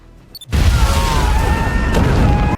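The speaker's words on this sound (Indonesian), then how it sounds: "Adam sengaja meledakkan bom yang sudah dia pasang" A bomb explosion in a Jason Statham action film bursts in suddenly after a brief quiet and holds as a loud, sustained roar with rumbling debris for about two seconds.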